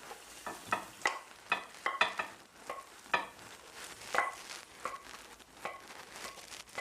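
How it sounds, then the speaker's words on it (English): Cooked chicken pieces for a chicken and leek pie are tipped from a frying pan into a pie dish, with scraping stirs and soft sizzling taps coming in an irregular run of short, close clatters. "and pour the chicken in"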